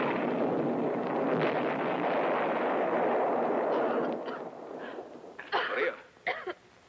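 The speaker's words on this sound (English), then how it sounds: "Uncle Andre, I'm scared of explosions." Explosions echo through a cave in a 1964 horror film: a dense, loud roaring blast sustains for about four seconds, then fades into rumbling with several sharp, separate bursts near the end.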